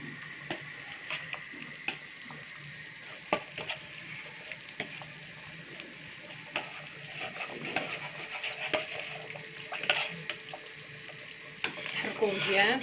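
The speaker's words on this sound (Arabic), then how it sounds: "نحركو مزيان" Tomato sauce thickened with starch being stirred in a pot, quiet scraping and bubbling with soft clicks of the spoon against the pot, repeated irregularly throughout.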